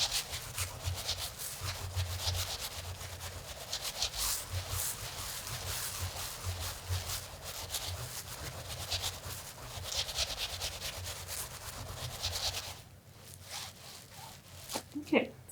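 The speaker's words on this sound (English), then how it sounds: "just giving that edge a little rub will seal it down" Wet felt being rubbed along its edge to seal it, a soft, steady scratchy rubbing in repeated close strokes that stops near the end, with a voice speaking at times.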